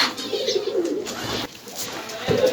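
Several pigeons coo close by in a loft of breeding high-flying pigeons, low throaty coos rising and falling almost continuously over a steady background hiss, with no talking.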